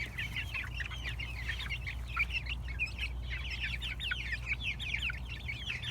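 Heritage chickens, a small group of three roosters and two hens let outside in the morning, cluck and chirp steadily and fairly close, a busy continuous chatter over a low background rumble.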